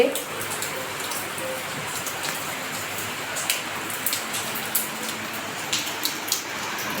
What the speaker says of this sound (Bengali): বাইরে কি প্রচণ্ড বৃষ্টি হচ্ছে বন্ধুরা